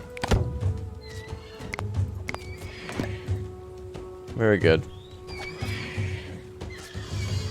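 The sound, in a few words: horses neighing in video game Dawn of Man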